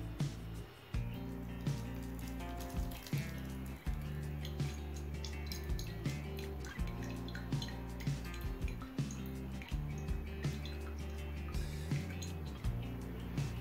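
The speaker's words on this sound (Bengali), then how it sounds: "এবার একটা ছাঁকনির সাহায্যে তেলটা ছেঁকে নেব।" Homemade organic hair oil strained through a strainer: quiet, close dripping and trickling with faint metallic clinks and soft squishes repeating in an irregular rhythm, with no voices.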